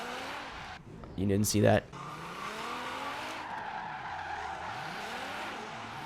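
A Nissan GTR drifting across the tarmac of a surfers' parking lot in Forza Horizon 3, with a short, loud tire squeal over a steady engine drone and a brief spoken remark.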